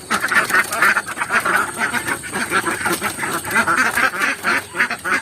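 Ducks on a farm kept alongside free-range village chickens quack repeatedly in a lively chorus, overlapping calls coming close together with no pauses.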